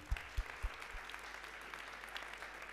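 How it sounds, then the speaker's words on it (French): Audience applause welcoming a speaker at a French national conference on working-class neighbourhoods and public services, a steady wash of clapping from a moderately distant crowd, with a few low thumps at the start. "Je vous demande d'applaudir Madame Rondeau-Christiane"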